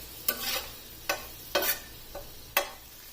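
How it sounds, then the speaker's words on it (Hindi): Mutton boti pieces frying in oil in a pan, with a soft steady sizzle broken by a few sharp stirring scrapes spaced about half a second to a second apart, close and fairly quiet. "अब इस मटन बोटी को ऑयल में तकरीबन 5 से 6 मिनट तक फ्राई होने देना है"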